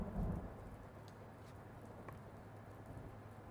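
Thunder rumbles over a steady wash of rain in the Blacksad video game, with a brief low boom at the start and faint rain continuing throughout.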